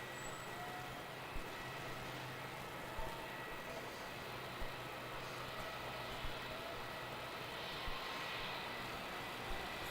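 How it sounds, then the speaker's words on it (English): A Rex airliner landing on runway 27 at Melbourne Airport at night, a steady broad engine roar heard from the terminal, constant and moderately loud with faint periodic ticks over it. "a Rex got cleared to land on 27, but Yeah. He's just over the threshold."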